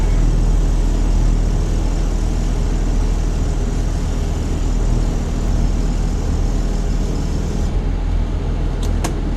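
A school bus backs up during a driver's licence road test in Ontario, its steady, loud engine drone continuous throughout with a couple of faint clicks near the end.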